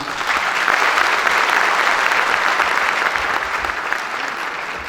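Audience at a candidate introduction meeting breaks into loud, sustained applause, a dense and steady wash of clapping that fills the whole stretch without pause.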